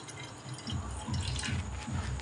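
A small amount of water pours into a bowl for heating, making a soft, steady trickling and dripping splash close by, with no talk.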